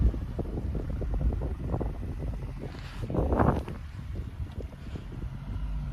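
A car fitted with Venom Power Covert Grip ASP tires revs its engine while driving on snow, a rumbling low drone with a burst of rushing noise midway, brief and moderately loud.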